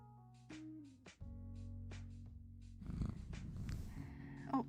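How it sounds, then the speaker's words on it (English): Low, steady rumbling cat purr up close, with a brief rustle partway through and some scraping and movement noises toward the end as the cat rubs the microphone. "Can you hear her purring?"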